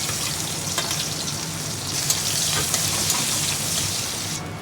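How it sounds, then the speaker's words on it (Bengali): Chopped onions dropped into hot oil, a mix of plain oil and leftover mutton fat, frying with a steady close sizzle that swells slightly partway through, alongside occasional stirring clinks, with no talking. "এবার আমি দিয়ে দেবো এর মধ্যে কুচনো পেঁয়াজ।"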